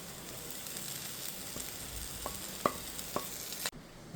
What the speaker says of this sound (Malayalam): നമുക്കിതിലേക്ക് നേരത്തെ എടുത്തു വെച്ച മുരിങ്ങയിലയും മുരിങ്ങത്തണ്ടും മുരിങ്ങപ്പൂവും എല്ലാം ഇതിലേക്കിട്ട് നന്നായി ഒന്ന് ഇളക്കിയെടുക്കാം